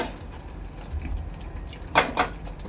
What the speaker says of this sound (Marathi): यामध्ये मी थोडंसं पाणी टाकणार आहे, कारण आपल्याला रस्सा करायचा आहे